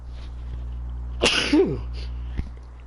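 A single sharp sneeze bursts out close to the microphone, a quick inhale then an explosive release, over a steady low electrical hum.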